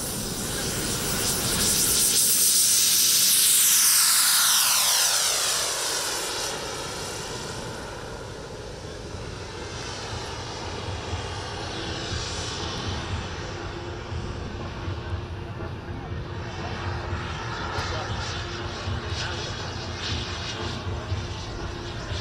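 A radio-controlled jet aircraft with a four-metre wingspan takes off at a model aviation festival, its turbine roaring loudly up close and then fading as it climbs away, leaving a steady distant whine over outdoor background noise.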